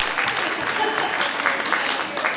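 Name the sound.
audience clapping hands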